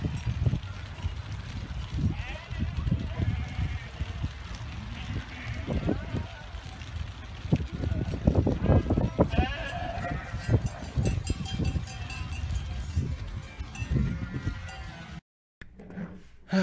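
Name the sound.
sheep bleating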